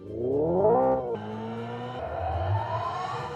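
A synthesized engine-like drive tone from a 2024 Hyundai IONIQ 5 N electric car rises in pitch, drops abruptly, then climbs again as if accelerating through gears, loud and alone.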